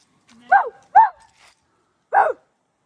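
A person imitates a dog, giving three short, sharp barks: two in quick succession, then a pause and one more.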